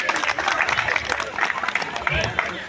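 A crowd gives loud, dense applause to welcome guests at a gathering, with steady clapping and a voice speaking over it.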